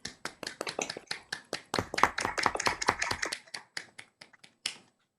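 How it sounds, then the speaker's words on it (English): Sparse, uneven handclaps from a small audience at a youth composers' concert, sharp separate claps thickening briefly in the middle, then thinning out to a few scattered claps before stopping. "Can we get another round of applause for Olivia?"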